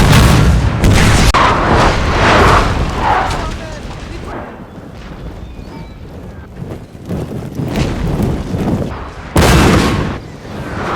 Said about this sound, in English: The coalition began a bombardment on the city.